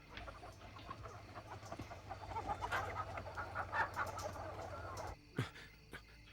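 Chickens cluck and murmur steadily on a farm, a busy flock close by under low background rumble, with a few sharper calls near the end.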